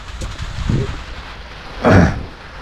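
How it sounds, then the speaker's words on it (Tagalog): Rain falls steadily on a farm, a constant hiss, broken by two short low rumbles of thunder, the second louder and nearer. "Ay, umuulan eh."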